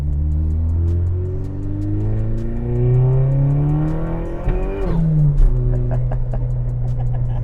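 A Chevrolet Cobalt with the turbocharged LNF engine runs close by, its steady burbly idle rising and falling in pitch through a brief rev near the middle, loud and continuous with no talking.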